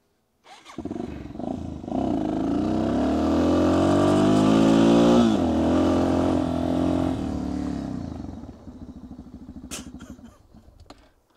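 A motorcycle engine starts up and revs hard, pitch climbing as it accelerates, then fades out to a low idle and stops, with no talking, at a riding event in Morocco.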